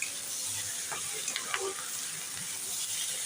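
Food sizzles steadily in a hot frying pan at home, with a constant hissing crackle and a few faint clinks of stirring over the top. There is no talk.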